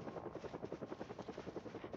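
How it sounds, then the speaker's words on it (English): A helicopter flies overhead in the video game Project Zomboid, its rotor giving a steady, rapid rhythmic thumping that stays even and fairly close throughout, with no one speaking. "Is this the helicopter?"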